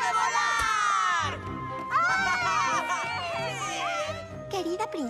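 Animated crowd of young voices cheering and shouting an ovation for Fluttershy, loud and close, rising in bursts over a busy cartoon scene.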